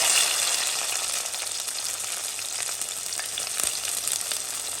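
Shallots frying with fenugreek seeds in hot oil for a fish curry, a loud, steady close sizzle with no talking.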